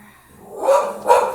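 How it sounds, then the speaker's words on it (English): Two quick, fairly loud dog barks ring out close together during an at-home weights yoga workout, with no talking over them. "Wouldn't be yoga if we didn't have a dog barking."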